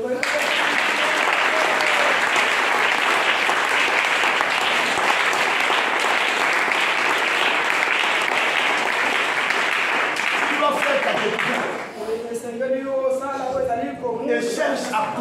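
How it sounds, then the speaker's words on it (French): A church congregation at a Sunday service claps loudly and steadily for about twelve seconds, then the applause fades as voices and talk take over. "Est-ce qu'on peut acclamer aussi?"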